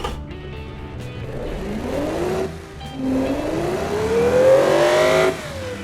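A synthetic car engine in the video game Automation revs up in rising sweeps, dropping back once before climbing to a strained high whine that cuts off abruptly.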